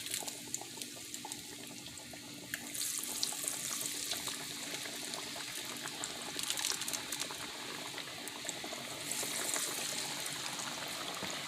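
Cheez-It coated chicken tenders frying in hot oil give off a steady, close sizzling hiss with scattered crackles that continues throughout, with no talking.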